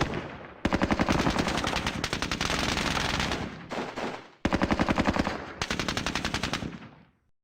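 Sustained automatic gunfire from Squad Battles Eagle Strike, loud, dense bursts of rapid shots with a brief pause midway, then another long volley that fades out; no talking.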